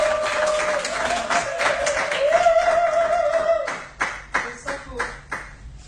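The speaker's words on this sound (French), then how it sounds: "Maximum d'applaudissements pour le père Bruno." A live audience applauds for the comedian père Bruno, with steady clapping under a voice and a musical tone, ending in a few separate loud claps.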